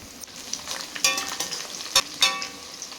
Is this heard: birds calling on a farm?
no